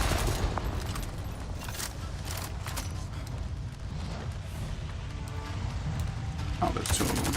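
Sustained gunfire during combat against RDA forces in Avatar: Frontiers of Pandora, a dense, continuous rattle of shots mixed with booms and mechanical clatter, steady and loud throughout.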